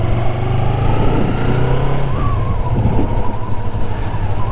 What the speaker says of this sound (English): This is a 2023 Yamaha MT-03, 321 cc's, I believe, twin cylinder